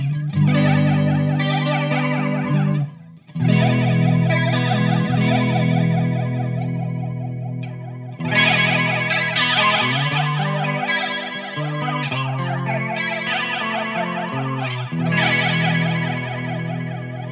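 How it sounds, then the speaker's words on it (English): Clean electric guitar through a cheap multi-FX pedal with flanger engaged, strummed chords sweeping with a swirling, jet-like whoosh, loud and continuous with a short pause early on, no talking. "let's start with some flanger on the clean sound"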